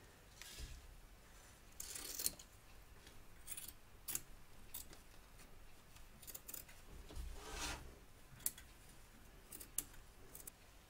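Scissors snip away excess batting around the stitch line of a handmade fabric bunny, giving a series of quiet, scattered cutting and rubbing sounds close by, with no one talking.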